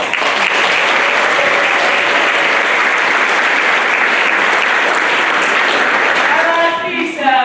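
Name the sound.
applause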